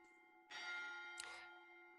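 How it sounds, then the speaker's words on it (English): A bell chime rings out, two clear struck tones with a warm ringing hum, the second brighter and shorter, fairly soft and alone. "the chime rings again from the bell"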